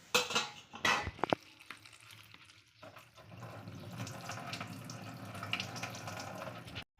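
Roasted dried prawns are rinsed in a kitchen sink, opening with a few sharp clanks of a metal vessel before running tap water and sloshing take over as a steady close wash.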